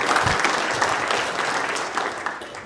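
An audience applauds at a French training event for apprenticeship-centre trainers, a steady wash of clapping held at an even level for a few seconds.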